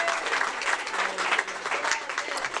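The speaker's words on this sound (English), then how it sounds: "I love the sound of that many claps" A dense crowd of convention panel audience members claps continuously and loudly throughout, a thick, even wash of many hands with no break.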